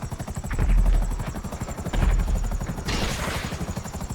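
Rapid, rhythmic rotor thumping of a helicopter in the video game GTA V fills the scene, loud and close, with a burst of hissing noise near the end.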